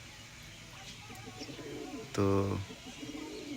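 Pigeons in a rooftop loft coo once briefly, a short low throaty call amid quiet ambient noise, with a voice speaking a single word just before.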